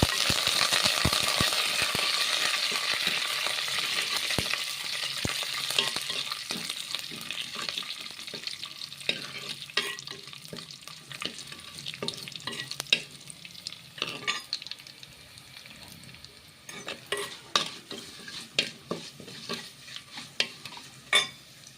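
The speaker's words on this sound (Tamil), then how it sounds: "வெந்தயம் பொரிந்து கொண்டிருக்கிறது" Fenugreek seeds spluttering and frying in hot oil in a pan for a village-style kuzhambu, a dense crackling sizzle that thins out into sharp scattered pops and spoon scrapes near the end.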